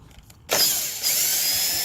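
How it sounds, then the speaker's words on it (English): A handheld power drill removes 10 mm bolts from the front grille of a 2009 Chevy Silverado, starting abruptly after a quiet moment and running as a steady, close whirring buzz for about a second and a half. "So let me get my trusty drill."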